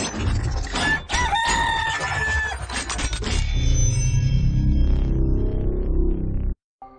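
A Gallic rooster crows loudly and close by, a long harmonic cock-a-doodle-doo heard alone over a dense rumbling background with a few sharp bursts.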